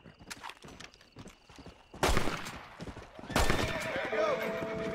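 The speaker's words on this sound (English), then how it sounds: "He shot the owl in mid-flight." Gunfire bursts in the Red Dead Redemption western video game, two loud sharp volleys cutting in over horse hoof clatter and ambient game sound, with a faint voice in the background.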